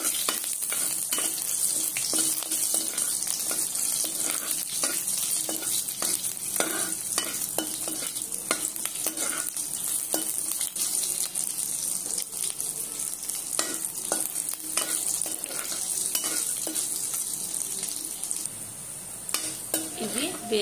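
Cumin, curry leaves and chillies fry for a tempering in a pan, giving a loud, steady sizzle up close that runs throughout, broken by frequent stirring scrapes, with no voices.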